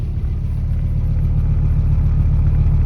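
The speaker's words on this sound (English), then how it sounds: "I love that 5-cylinder sound though." A 1990 Audi Coupe Quattro five-cylinder engine with a known exhaust leak runs steadily at a loud, close, low rumbling idle with no talking.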